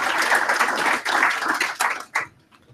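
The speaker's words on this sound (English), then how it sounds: "can we just give everyone a round of applause for speaking?" Audience applause for panel speakers at a talk on designing for autism, a short burst of fairly close clapping that breaks into a few last separate claps and stops.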